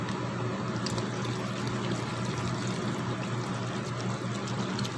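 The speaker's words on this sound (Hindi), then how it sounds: "सिरका ऐसा डालना है ताकि मिर्ची के ऊपर तक सिरका आ जाए।" Vinegar pours from a bottle over green chillies for an instant pickle, making a steady, close, continuous gurgling and splashing stream that stays even throughout with no talking.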